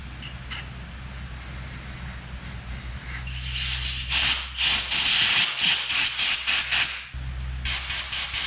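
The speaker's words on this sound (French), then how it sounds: "On va venir souffler avec du produit pour être sûr que tout est bien débouché et nettoyé." Cleaner sprayed through the passages of a Yamaha 125 YZ motorcycle carburetor body during cleaning, heard as a steady hiss that builds into loud, close spray bursts in short pulses.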